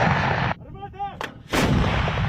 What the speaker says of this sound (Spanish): Ya ha comenzado el bombardeo